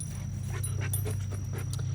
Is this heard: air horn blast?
no